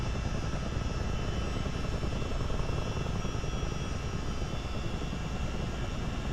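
A helicopter in Microsoft Flight Simulator flies at speed, its engine and rotor making a steady, even drone that fills the whole stretch without a break.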